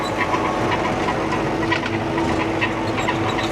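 Tractor engine running steadily in a vineyard during pruning work, a loud continuous rumble and drone with a constant hum filling the whole stretch, no voices over it.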